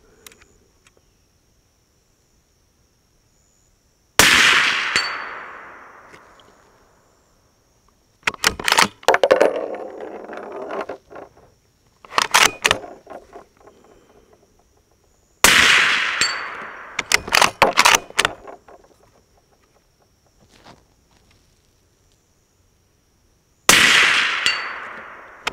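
A suppressed Desert Tech SRS A2 Covert rifle fires several separate shots with long quiet pauses between them, each a sharp loud crack that decays quickly, followed by brief clattering of bolt handling.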